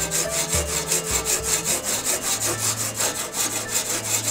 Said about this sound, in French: On l'entend au bruit de la scie quand ça commence à plier.